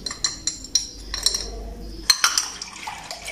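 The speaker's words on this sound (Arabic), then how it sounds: "غادي نحركو مزيان" A spoon clinks against a bowl in a series of sharp, bright taps while a milk-powder and starch mixture for homemade strawberry yogurt is stirred, close and fairly quiet, with a soft liquid swish between strikes.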